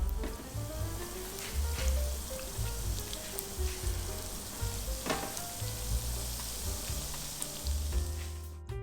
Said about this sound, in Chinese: 炸甜甜圈是一样的，时间也都差不多，同样是炸至金黄。